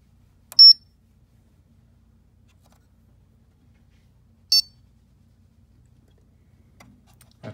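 Two short, high electronic beeps from a Xentaur XDT unit sound several seconds apart in an otherwise quiet room, followed by a faint click.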